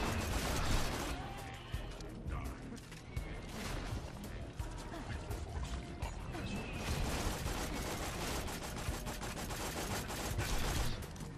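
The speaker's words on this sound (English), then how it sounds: "When you shoot the full clip and only 2 bullets hit" Borderlands 2 gunfire as a full magazine is emptied, dense rapid shots and crashing impacts running continuously at loud level amid chaotic game sounds, with a voice talking over the barrage.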